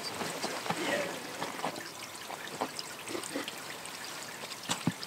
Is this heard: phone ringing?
no